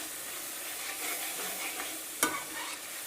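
Dried coriander and spices are stirred in a pan for aloo palak, a steady soft sizzle with light scraping throughout and one sharp clink of the spoon near the end.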